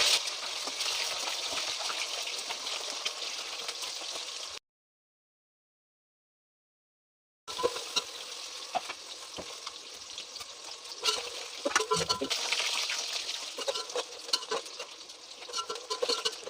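Eggs sizzling in hot oil in a wok while cooking egg and soya khichdi: a soft, continuous hiss broken by a few seconds of silence, then returning with scattered crackles and pops.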